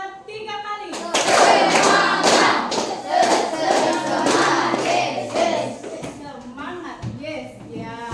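Classroom group doing a clapping cheer, a burst of many hands clapping and thumping in quick rhythmic patterns, close and lively, with voices chanting and talking around it.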